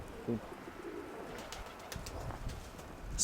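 Low, soft cooing from pigeons in the background of a home pigeon loft, faint and intermittent amid light rustling and ambient noise.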